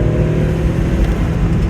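A Fiat Coupe with a torquey Italian engine accelerates hard in a 0 to 60 run, a steady, loud engine drone heard from inside the car with no break across the short stretch.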